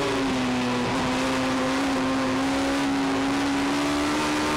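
Race car lapping the Kirkistown circuit during an NI Sevens Challenge race, a steady distant engine drone holding one even pitch throughout, with no talk over it.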